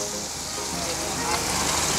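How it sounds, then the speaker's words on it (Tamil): Fish fries in hot refined oil at a beachside stall at Besant Nagar Beach in Chennai, a steady dense sizzle close by with a person talking over it. "இங்கே தான் ஃபிஷ் ஃப்ரை பண்ணிகிட்ருக்காங்க."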